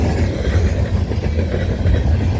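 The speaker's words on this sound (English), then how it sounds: "Symbol on this train is CNM 321." A CN freight train rolls past at Newtonville, Ontario, with a loud, close, continuous low rumble of rail cars and steady wheel clatter.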